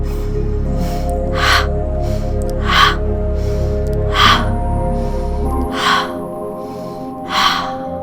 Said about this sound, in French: j'inspire, je monte les épaules aux oreilles et j'expire par la bouche avec le son